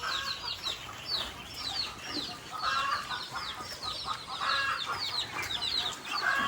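Chickens cluck repeatedly in short, busy bursts, several birds close by and fairly loud, with no talking.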